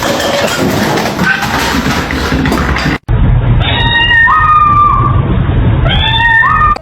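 A cat meows several times in a row, close and loud, its drawn-out rising calls standing out over steady background noise after a brief cut in the sound.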